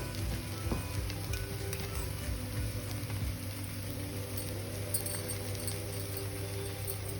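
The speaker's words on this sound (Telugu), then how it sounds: "ఇలా పెంక మీద 2 వైపులా ఆయిల్ వేసి కాల్చుకోవాలి." Palak paneer paratha frying in oil on a griddle, cooked on both sides, gives a steady, close sizzle and crackle throughout with no one talking.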